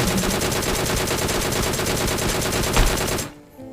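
Rapid automatic gunfire from the video game PUBG, a loud, dense stream of evenly spaced shots that continues for about three seconds, then cuts off abruptly into near silence.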